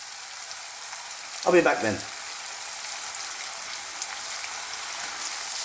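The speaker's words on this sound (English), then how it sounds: "we're going to cook these for about just the size of these in this very hot oil for about 5 minutes" Garlic pork pieces fry in very hot oil in a wok, giving a steady bright hiss throughout, with a short burst of nearby talk early on.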